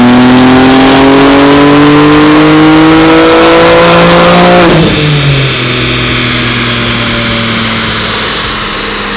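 BMW G80 with a JB4 tune revving hard on a dyno: a loud, continuous engine roar climbing steadily in pitch for about five seconds, then an abrupt break followed by the engine winding down and fading.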